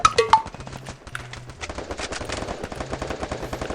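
Rapid bursts of gunfire from a 4v4 team shooting video game, clattering automatic shots in quick succession followed by steadier repeated firing, loud and close with no talking.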